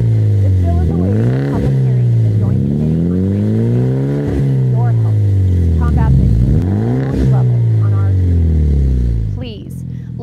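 A loud car with a modified exhaust, such as a cutout or bypass, revs repeatedly in a neighborhood, its rising and falling engine note sweeping up and down in several close, aggressive pulls.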